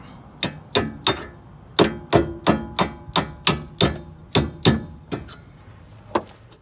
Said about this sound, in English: Should be able to just get a punch there and then just hammer that pin out